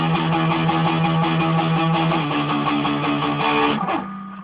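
Electric guitar playing the ending of the verse riff, loud chugging power chords in a driving rhythm that resolve into a final ringing chord which fades out.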